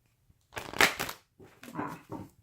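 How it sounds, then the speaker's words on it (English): Tarot cards being shuffled by hand, two short, quiet rustling bursts of riffling cards close to the microphone in an otherwise silent room. "One more shuffle."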